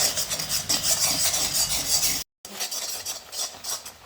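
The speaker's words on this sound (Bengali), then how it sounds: "এবারে এটাকে একসাথে মিশিয়ে নিতে হবে যতক্ষণ না লাল লাল হয়ে যাচ্ছে" A spoon scrapes and rubs steadily through grated coconut and khir in a pan, a close, rasping stirring sound with a brief gap of silence midway.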